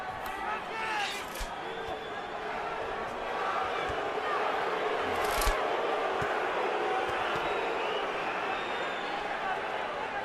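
Boxing arena crowd at the Manny Pacquiao versus Juan Manuel Marquez III fight, a broad steady roar of voices with scattered shouts and sharp bursts, heard beneath a commentator's talk.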